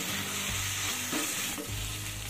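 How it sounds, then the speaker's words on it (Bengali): Spice paste sautéing in oil with salt in a pan, a steady close sizzle with scraping stirring strokes coming through at intervals, no voices. "যতক্ষণ না মশলার গা থেকে তেলটা ছেড়ে আসে ততক্ষণ একটু ভালো করে কষিয়ে নিতে হবে"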